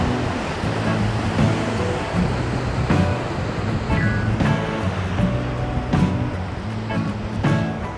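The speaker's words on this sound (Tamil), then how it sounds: "அப்படியே எனக்கு வந்தீங்கள இடது பக்கம் பார்த்தீங்கன்னா ஆர்ப்பரிக்கும் கடல்." Roaring ocean waves pound the shore at Victor Harbor, South Australia, a loud continuous surf rush with wind buffeting the microphone and a few sharper crashes, no voices.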